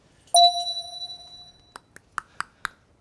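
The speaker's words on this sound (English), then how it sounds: "Listen for the bell." A single bright bell ding rings out clearly and decays over about a second, followed by several short sharp clinks or taps.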